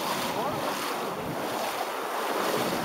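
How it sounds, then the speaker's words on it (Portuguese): Ocean waves surge onto the beach at Playa Reyna in Mariato, Panama, where a strong current pulls at the water. The surf makes a continuous loud wash mixed with gusty wind buffeting the microphone, and no one speaks. "Aqui tem uma correntezinha forte que a onda fica puxando"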